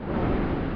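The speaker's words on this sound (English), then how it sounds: "This like wind effect that they used as a transition to go into the second chorus" A dense, low, rumbling whoosh of wind used as a transition into the second chorus of a song, pitched down octaves and sustained without a break, dull and muffled with no sharp edges.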